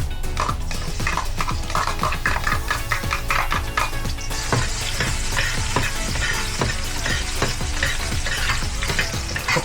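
Garlic sautéing in hot oil in a preheated pan for bagnet paksiw, a loud continuous sizzle with rapid metallic spatula scrapes and clacks throughout, close and without any voices.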